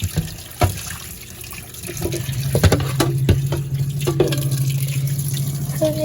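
Water runs from a kitchen tap into a sink while dishes are washed, a steady hiss of flowing water broken by a few sharp clinks and knocks of dishware, close and with no talking.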